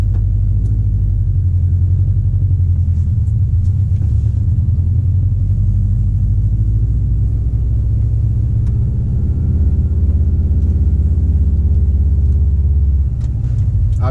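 A Subaru WRX STI driving from inside the cabin, its engine a deep, steady low rumble with a slight rise in revs partway through, loud and continuous.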